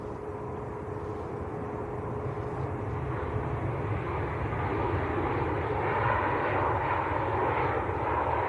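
A Ryanair airliner from Cork passes very high over Manchester Airport on approach to runway 23L arrivals, a steady distant engine roar that swells slowly and holds, with no talk.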